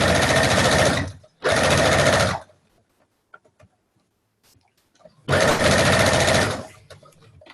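Home sewing machine stitching a fabric face mask: loud close bursts of rapid mechanical stitching, two short runs, a quiet pause with small handling clicks, then another run.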